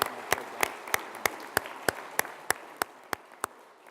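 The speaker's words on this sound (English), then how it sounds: "So a round of applause for all 10 of our finalists." A small business-challenge audience claps for ten finalists in slow, evenly spaced single claps, about three per second, crisp and fairly close, gradually fading toward the end with no voices.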